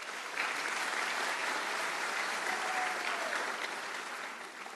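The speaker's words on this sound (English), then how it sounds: "please give yourselves a round of applause" An audience at a women in leadership event applauds, a dense and steady wash of many hands clapping that holds evenly for about five seconds, fairly distant in the room, with no talking over it.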